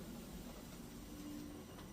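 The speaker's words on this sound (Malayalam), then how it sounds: "ഈ ട്രെയിനാണ് ഇപ്പോൾ നമുക്ക് പോകേണ്ടത്. ഇന്റർസിറ്റി ട്രെയിനാണ്." Steady rumble of an intercity train in Austria, heard from on board or close by as a continuous low, even drone with faint high hiss and no clear talk.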